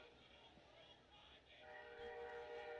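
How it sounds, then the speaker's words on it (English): A train passes in the distance near an outdoor baseball game, its faint horn holding a long tone over low rumbling crowd ambience. "You can hear the train go by in the distance."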